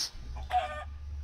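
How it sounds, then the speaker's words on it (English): A chicken in the Minecraft video game gives a short, clear cluck, a single brief call over a low steady background hum. "let's get this chicken because... feathers?"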